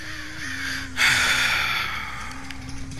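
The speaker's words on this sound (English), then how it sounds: "Sorry about breathing so loudly." A player in the horror game Dead by Daylight breathes loudly, one heavy exhale rushing out near the mic in the middle, over a constant background hum and faint game ambience.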